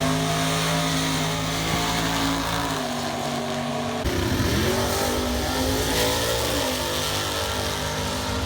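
Race cars accelerating hard at Atco drag strip, a loud sustained engine roar with rising revs, then a second car launching midway and climbing through its gears, with no talking.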